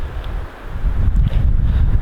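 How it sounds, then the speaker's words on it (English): Strong gusts buffet the microphone outdoors on a frozen lake while ice fishing, producing a low, rumbling wind roar that swells and fades continuously throughout. "Oh, it's so windy."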